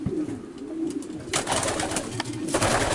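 Pigeons coo nearby in low, soft, repeated throaty calls, with some rustling and shuffling around them.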